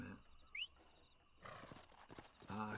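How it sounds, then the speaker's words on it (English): Horse hooves clip-clopping in the Red Dead Redemption video game, a few close hoofbeats with a short whinny-like squeal, set against faint ambient game sound. "This horse is now your trusty steed."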